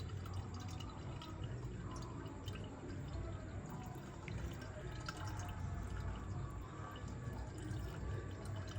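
Homemade Jamaican ginger beer, made with backyard ginger, trickles and splashes through a fine strainer in a continuous, quiet liquid pour with faint dripping, no voices over it.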